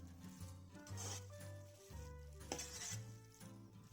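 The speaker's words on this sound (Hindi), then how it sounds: "अब हम इसको अच्छी तरह भून लेंगे।" Gajar ka halwa, grated carrot being roasted in a pan, stirred with steady scraping and a low sizzle, a clear utensil clank midway, close and moderately quiet, with no one speaking.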